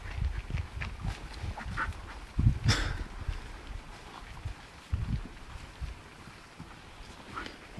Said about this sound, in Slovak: Choď od toho šaleného psa.